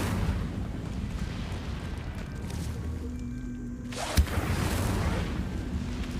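Incendio fire spell cast in Hogwarts Legacy, a steady rumbling whoosh of flame with a sharp burst partway through, fairly loud and continuous.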